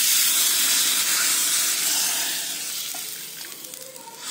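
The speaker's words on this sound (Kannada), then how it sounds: "Now add the tempering to the rasam." Hot tempering with asafoetida poured into rasam gives a loud sizzling hiss at once, which fades gradually into a softer bubbling crackle over a few seconds.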